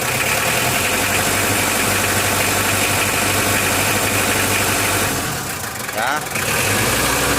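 A Mitsubishi L300 engine that is hard to start when hot and stalls on inclines runs loud and close with a rough, uneven sputtering rumble, then dips briefly near the end before picking up again; a voice speaks briefly.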